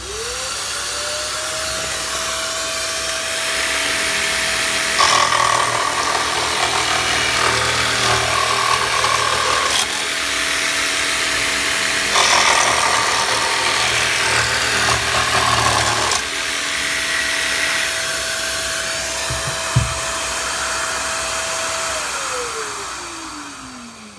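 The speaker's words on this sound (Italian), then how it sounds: "Proviamo con l'aspirapolvere accesa quanta polvere riesce ad aspirare." Parkside PSTKA 12 A1 cordless 12V pendulum jigsaw cutting in bursts while a vacuum cleaner whines continuously alongside, spinning up at the start and winding down at the end; several cutting passes stand out loudly over the steady suction drone.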